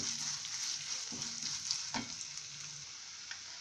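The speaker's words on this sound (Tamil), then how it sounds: "இந்த தேங்காய் வந்து இந்த எண்ணெயில் வந்து கொஞ்சம் நேரம் வதங்கணும்" Grated coconut fries in oil with a soft, continuous sizzle, punctuated by a few stirring scrapes and light clicks of a spoon against the pan; quiet and close, with no talking.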